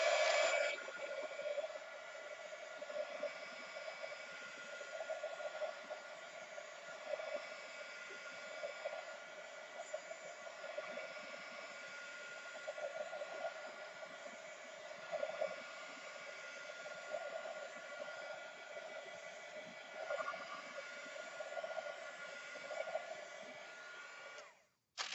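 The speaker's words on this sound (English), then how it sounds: "I'm going to dry this a little bit and then we'll add some red." Hair dryer blowing on wet paint in an art journal, a steady, continuous whirring hiss that runs almost unchanged for the whole stretch and then cuts off at the end.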